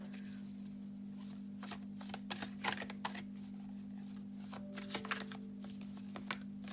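Mini tarot cards being shuffled and handled, soft irregular riffling and flicking bursts close by over a steady low electrical hum, no talk.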